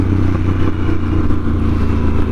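A motorcycle engine rumbles steadily at close range, with faint crackles and pops from the exhaust mixed into the low drone.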